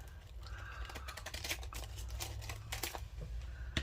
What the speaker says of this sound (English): take my pinking shears across the top